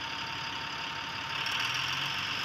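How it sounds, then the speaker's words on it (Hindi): A Tata 2518 BS4 tipper truck's diesel engine idles just after starting, giving a steady, close mechanical drone with a faint rattling edge. The hum rises slightly near the end, and no one speaks. "देख सकते हैं गाड़ी स्टार्ट हो गई है,"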